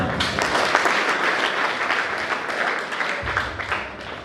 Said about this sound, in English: Please give a huge round of applause for our STM sir